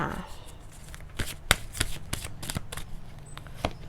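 Tarot cards shuffled by hand in a brisk run of crisp riffling flicks and soft slaps, close and fairly loud, with no talk over them.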